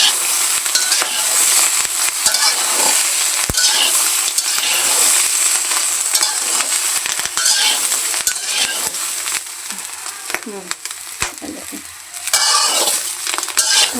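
Green chillies fry in a little oil in a pan, a loud, close, continuous sizzle with scraping and stirring against the pan throughout, no voices.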